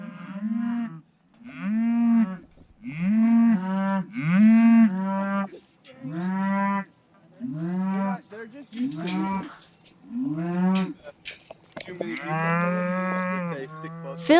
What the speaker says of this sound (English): Phil takes me to see a herd of cows grazing out in a green field.